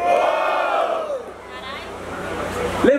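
A crowd at a rap battle semifinal roars and shouts together, loud and sustained, with cries rising above the cheering.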